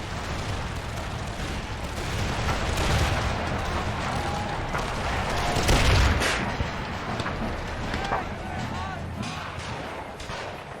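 Artillery and gunfire in an Empire: Total War battle at Ramillies, rumbling booms and crackling musket volleys blending into a dense continuous din, with a heavy blast around the middle and a voice talking over it.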